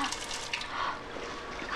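Cold tap water runs steadily onto a burn from a hot lid in a home kitchen, a continuous close rushing hiss with no speech.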